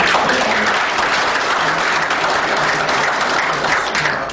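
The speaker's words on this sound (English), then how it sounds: "I'm not sure I would have predicted that a call for taxation would have gotten that kind of applause" A sustained, loud round of audience applause follows a speech at a public lecture event, the dense clapping holding evenly throughout before easing slightly at the end.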